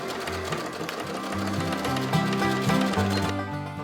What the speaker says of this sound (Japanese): 今回はボア側をミシンで縫うことにした。